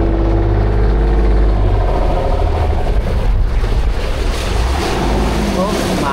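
Ocean waves wash near a small boat out on open water, a loud constant roar of surf and wind buffeting the microphone, with faint voices underneath.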